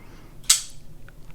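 A folding knife blade, the Defcon Atlas or Radioactive, snaps open on its detent with a single sharp, close metallic click, followed by faint small ticks in an otherwise quiet space.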